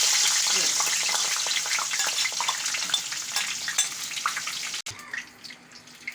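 Onions and cumin sizzle steadily in hot mustard oil for a tempering, a loud continuous frying hiss with stirring scrapes, dropping off sharply near the end as the pan is moved or removed from heat.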